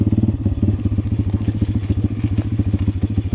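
A modified Pitgang 140XD pit bike engine idles with almost no throttle, a fast, even, throbbing putter, close by and steady throughout.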